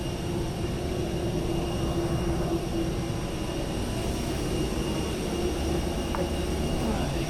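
An airliner sits at an airport in Sri Lanka during boarding, giving off a loud, steady engine drone with a deep rumble that holds constant.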